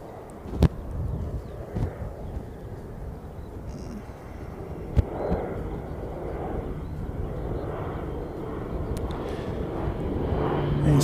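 An arriving airplane rumbles faintly and distantly at Christchurch, a low steady drone under wind buffeting and a few sharp microphone knocks, growing slightly louder toward the end.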